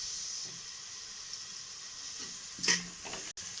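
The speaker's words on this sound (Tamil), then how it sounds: "இன்னுமே வெங்காயம் வதங்கலாம்" Onions frying in a pan for a roadside salna, with a soft steady sizzle and hiss and a few stirring scrapes near the end, close and quiet.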